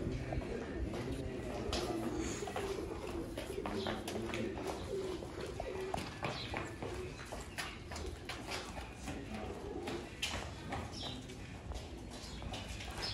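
Pigeons in a loft holding about seventy birds, some twenty-five breeding pairs, keep up a dense, continuous cooing and fluttering murmur at a steady, moderate level throughout.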